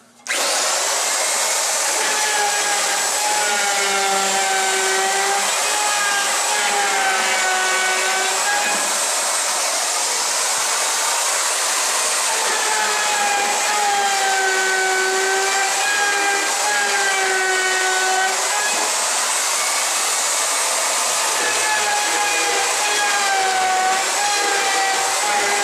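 A router cuts a corner into a vinyl post for about twenty-five seconds, a loud, close, continuous whine with shifting tones as the bit works through the plastic.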